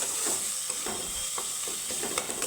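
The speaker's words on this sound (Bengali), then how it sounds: "আমি সুন্দর করে মশলাটাকে কষিয়ে নিব" Spice paste of turmeric, cumin, coriander and Kashmiri chilli powders with tomato frying in a pan, giving a steady close sizzle with soft stirring scrapes throughout, no voices.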